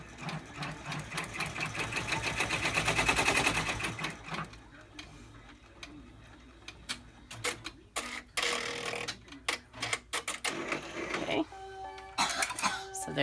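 A multi-needle embroidery machine stitches a zipper fob pouch with a vinyl window, its steady rapid mechanical chatter building loudly, then breaking into intermittent bursts and stops, with a person talking now and then over it.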